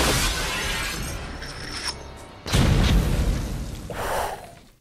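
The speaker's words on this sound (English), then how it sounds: "Shoot the glass." Gunfire shatters glass in the 1988 action film Die Hard, loud bursts of breaking glass with tinkling debris and a heavy impact, close and dense, filling the whole stretch.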